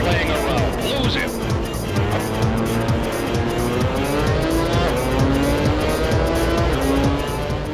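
Corvette C5 race car in the R: Racing Evolution video game, a loud, constant engine whine with shifting pitch, squealing tires and other cars around it, under talking throughout.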